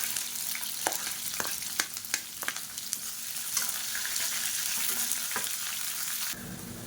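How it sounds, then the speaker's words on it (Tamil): Onions sauté in hot oil with mustard seeds, curry leaves and green chillies, crackling in a close, steady sizzle, with sharp spatula clicks and scrapes against the pan as they are stirred. "இப்போ வெங்காயம் நல்லா வதங்கிட்டு இருக்கு"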